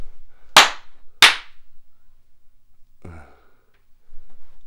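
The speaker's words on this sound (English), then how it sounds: "Clap your hands." Two sharp hand claps close together ring out close and loud, followed a moment later by a softer, muffled knock-like sound, with quiet room noise around them.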